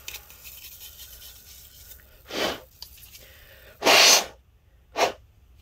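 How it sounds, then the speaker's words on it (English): Short compressed-air bursts dusting off the cooling fan of a Lenovo Legion S7 15ACH6 laptop, three hissing blasts with the longest and loudest in the middle, close by against a quiet background. "let me actually dust this one off as well"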